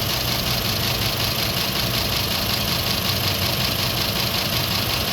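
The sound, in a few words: 2010 Ford F250 engine idling, slightly loud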